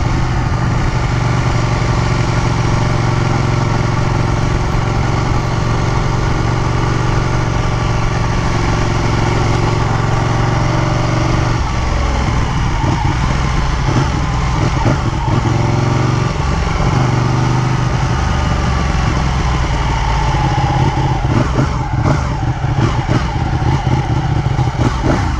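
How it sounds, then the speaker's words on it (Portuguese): A Ducati Panigale 1299 sports bike engine runs at a steady low idle, loud and close, then its pitch wavers and rises briefly in the middle before settling back to a constant drone. "você tira a mão do acelerador, ela tem um freio motor violento."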